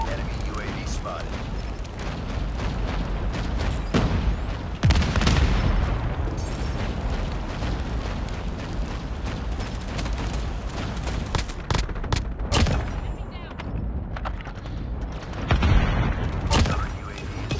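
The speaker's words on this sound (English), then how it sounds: "Friendly Predator missile inbound." Call of Duty Mobile Hardpoint match with loud, dense gunfire and booming explosions from a Predator missile strike, near and continuous, with bursts and impacts layered over game announcer voice lines.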